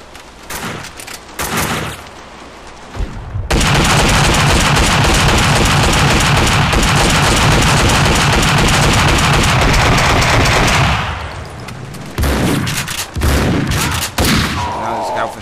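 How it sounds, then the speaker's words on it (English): Max Payne 2 game combat erupts in a dense, loud barrage of gunfire and a grenade blast lasting several seconds, with scattered shots before and after and someone commenting over parts of it. "Fire in the hole! Oh, drop the grenade."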